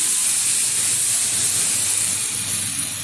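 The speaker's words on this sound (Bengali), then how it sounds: "এখন ঢেলে দিচ্ছি মশলার মধ্যে" Boiled chickpeas, darkened Punjabi chole style, pour into hot spice masala and set off a loud, steady, close hiss of sizzling that holds without a break.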